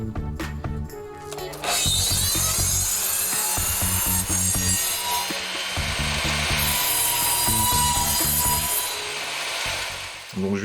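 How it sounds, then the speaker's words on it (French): Mitre saw slicing through wooden posts for a timber-frame chicken coop, several loud bursts of blade whine and grinding cut through wood in quick succession, close up with no talk. "je viens avec ma scie à onglet pour débiter tout ça, de manière assez rapide"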